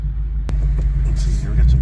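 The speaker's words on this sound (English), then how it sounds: "And the Dark Horse with the exhaust note." A Ford Mustang Dark Horse exhaust note droning steadily and close on a back road, a continuous low rumble with a sharp transient near the start, under a voice talking over it.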